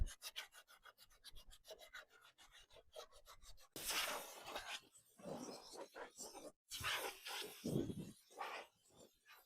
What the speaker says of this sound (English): can't sand everything with the electrical sander, so going in by hand